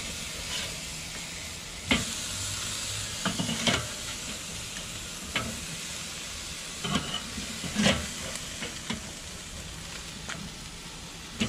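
Freshly flipped pork chops sizzle steadily in a pan, a constant hiss and crackle broken by occasional louder pops and spatters.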